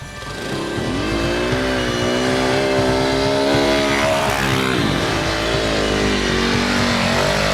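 Enduro motorcycles rev steadily along forest trails through bogland, a loud, continuous engine drone with rising and falling pitch that stays close throughout, no voices.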